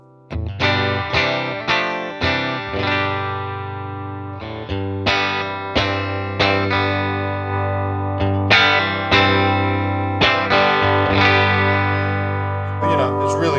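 An electric guitar plugged into an amp rings out in a sequence of distorted, sustained chords with heavy effects and some chorus, each strum struck firmly and left to ring. The playing is loud and close, and no one talks over it.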